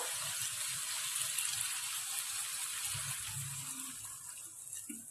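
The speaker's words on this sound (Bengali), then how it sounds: "এবার জল দিয়ে দেবো" Water pours steadily into a pan of fish curry cooked in freshly ground spice paste, making a continuous close splashing gush with no pauses.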